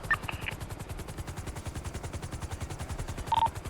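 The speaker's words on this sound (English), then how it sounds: "Shots fired at the pink cage" Gunfire in GTA V roleplay on NoPixel comes as a rapid, even run of shots, continuous and moderately distant, with a couple of brief beeps from radio or interface sounds.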